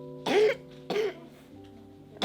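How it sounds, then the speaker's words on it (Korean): A young child coughs twice in short, harsh bursts close by, followed by a quieter breathy sound in a calm indoor setting. "심상치 않은 기침 소리."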